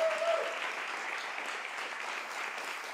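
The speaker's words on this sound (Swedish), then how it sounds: "Varm applåd för dem!" Warm applause from a concert audience for a string quartet, a dense steady wash of clapping holding at even strength from start to finish.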